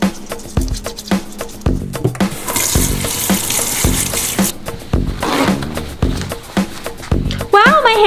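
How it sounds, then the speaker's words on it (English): Hands rubbed with lemon under a running kitchen tap, the water splashing and gushing with intermittent clatter while people talk over it. "You can use lemon to wash your hand, so the smell will be gone."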